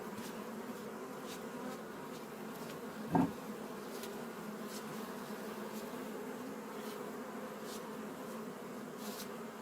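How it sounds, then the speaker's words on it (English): Dense, steady hum of many honey bees buzzing close by on a hive frame during a colony inspection, a continuous drone with a brief sharp knock partway through. "A lot of bees on here."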